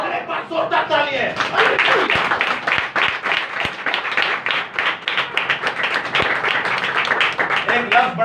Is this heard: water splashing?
no